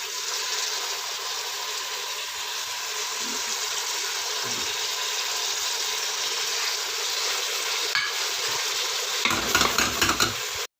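Masala for smoky dum kabab sizzles in a hot pan while being stirred, a steady frying hiss with scraping strokes, ending in a few louder clattering stirs and splashes near the close.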